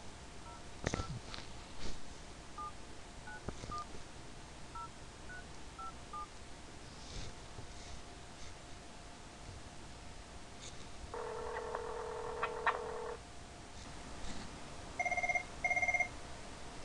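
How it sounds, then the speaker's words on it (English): Telephone keypad tones dial a number from a cell phone into a Cisco Call Manager system with Google Voice, a quick series of short beeps followed by a steadier burst and then ringback tones as the call connects, over faint background hiss. "we should be able to dial that number, and I'm going to call it from my cell phone"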